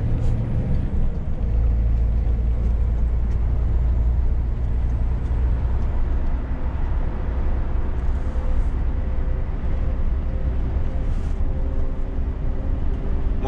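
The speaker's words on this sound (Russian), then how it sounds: "Сплошной поток грузовиков уже валит." A steady stream of trucks rolls along a German autobahn, a continuous loud broadband roar of engines and tyres with no pauses, heard from close by.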